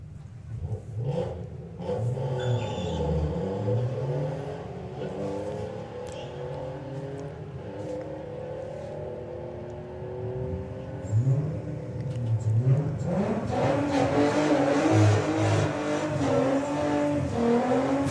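Two Audi TT cars drag racing at Santa Pod roar loudly, engines revving and climbing through the run with a heavy rumbling drone that swells near the end.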